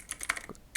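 Quick clicking keystrokes on a computer keyboard, a handful of crisp taps in a short burst, near and fairly quiet.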